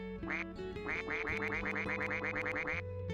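Suikoden's duck-quack menu effect rattles off a rapid string of about a dozen nasal quacks over a steady game music bed, loud and up front.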